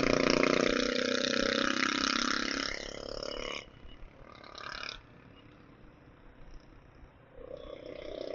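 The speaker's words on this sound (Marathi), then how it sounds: "त्यांनी सायलेन्सरच काढून टाकले" A loud, raspy motorcycle engine with its silencer removed roars for a few seconds, then drops to a rougher, quieter idle with occasional sputters.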